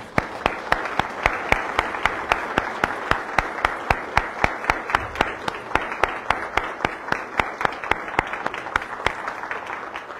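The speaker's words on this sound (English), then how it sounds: "Let's stand and show our great love to Mary right now with an applause." A church congregation at a Mass of consecration to Mary applauding together, a sustained wash of clapping with a steady rhythmic beat of louder claps running through it.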